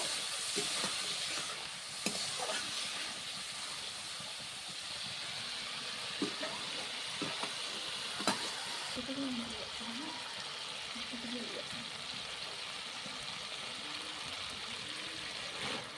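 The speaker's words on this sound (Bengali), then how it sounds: "সামান্য জল দিয়ে দেব আবারও ভালো করে কষিয়ে নেব" Curry masala for a homestyle village chicken curry sizzles and hisses in a pan as it is stirred with a splash of water. A soft, continuous frying crackle is broken by occasional scrapes, and a voice talks quietly over it.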